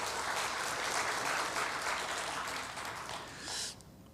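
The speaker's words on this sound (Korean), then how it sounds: "박수하겠습니다" Church congregation clapping together in applause, a dense sustained patter of many hands that fades toward the end.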